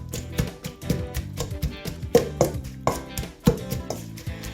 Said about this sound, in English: then you just pound everything together